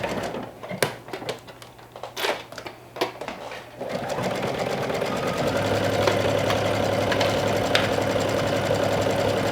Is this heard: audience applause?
no